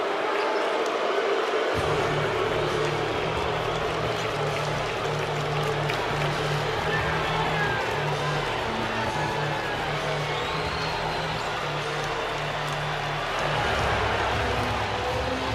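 A basketball arena crowd at halftime of a Kentucky versus Gonzaga game in Nashville, a steady loud roar of cheering and murmur filling the space, continuous throughout with a low hum underneath.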